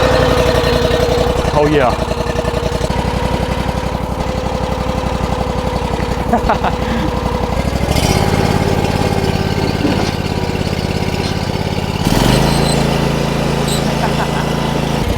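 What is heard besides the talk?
trencher engine running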